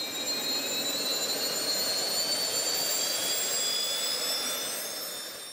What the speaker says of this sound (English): Warming up the engines takes about 90 seconds.